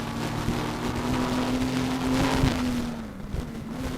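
Formula V6 race cars in the rain, a steady engine drone with a sustained pitched whine, spray hissing over it, the car fairly close and continuous throughout.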